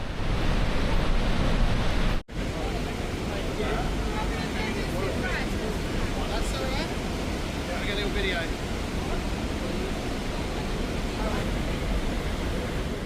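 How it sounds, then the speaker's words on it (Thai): Steady, heavy roar of Niagara Falls on the Canadian side fills the whole clip, a dense broadband rush with no pauses, loud and close. "สัมผัสได้ถึงพลังของน้ำตกเลยครับ"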